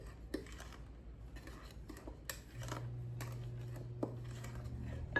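Self-rising flour and sugar are whisked together in a bowl for blueberry biscuits, with faint, irregular clinks and taps of the whisk against the bowl over a quiet background.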